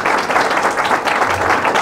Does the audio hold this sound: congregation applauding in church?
yes